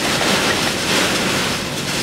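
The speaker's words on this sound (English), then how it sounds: "Look at the wind blow." A strong derecho wind roars through trees in southern Illinois during an inland storm, producing a loud, steady, broadband rush that never lets up.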